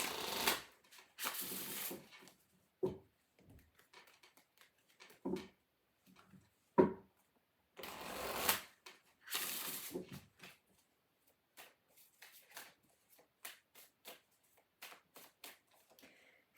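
Tarot cards from a Revelations Tarot deck being shuffled and handled at close range, with soft riffling bursts, light slaps and scattered ticks spread over quiet gaps.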